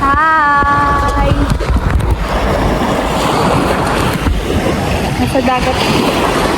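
Steady rushing of sea waves and wind buffeting past an island-hopping boat in the Philippines, loud and continuous, with voices and a brief melodic tone early on.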